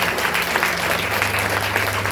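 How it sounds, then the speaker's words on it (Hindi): A congregation claps steadily in praise to Jesus at a church blessing meeting, a dense, loud, continuous wash of applause with no pauses. "यीशु मसीह के लिए ताली बजाएं और उसको धन्यवाद दें"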